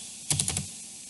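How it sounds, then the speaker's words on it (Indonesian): A command being typed on a computer keyboard, a quick burst of about four crisp key clicks close up, alone in a quiet room. "Kemudian untuk pengujiannya kita ketikkan perintah streamlit"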